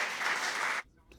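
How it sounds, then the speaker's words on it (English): Applause rises in a congressional hearing chamber, a dense burst of clapping that cuts off abruptly after under a second. "applause in the chamber for Alexander Vindeman today"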